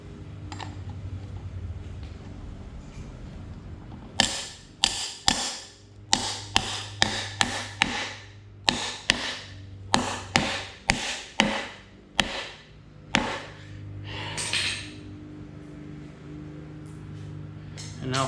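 Sharp taps set the last piece of a no-weld astromech ankle assembly into place with epoxy, about a dozen irregular knocks close by, some quick pairs, following a stretch of quieter handling noise.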